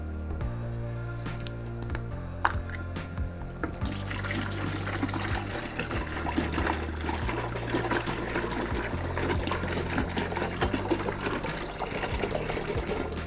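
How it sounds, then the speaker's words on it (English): Red grape juice poured from a bottle into a wine fermenter, a steady liquid stream splashing continuously, close and fairly loud, over a low musical backing. "next we're going to add one of our bottles of red grape juice."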